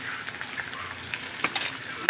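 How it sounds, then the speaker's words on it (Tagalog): Garlic, onion and tomato sauté in oil in a pan, a close, continuous sizzle with light scraping and stirring knocks scattered across a short stretch, with no voices. "Gisa-gisa na tayo guys. Bawang, sibuyas, kamatis."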